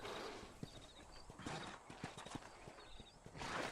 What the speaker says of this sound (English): Ride your horse to the hitching post.